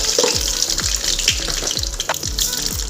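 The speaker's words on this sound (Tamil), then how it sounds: "இப்போ ஒரு கடாயில் எண்ணெய் ஊற்றி தாளிக்கணும் மீன் குழம்புக்கு." Mustard seeds sizzle and crackle in hot oil in a kadai while tempering for fish kulambu, a dense, close frying hiss broken by repeated sharp pops scattered irregularly across the whole stretch.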